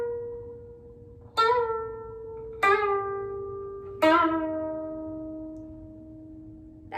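A koto, played with the suchiro accent technique of a slight rising pitch, sounds three clear, separate plucked notes, each ringing and slowly fading, with a fourth starting at the very end, played alone in a quiet room.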